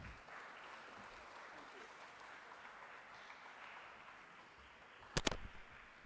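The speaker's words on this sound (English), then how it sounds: "Please give him a huge round of applause" Applause from a conference audience at a media and society event, a steady wash of clapping that holds at an even level for several seconds, with a brief louder burst near the end.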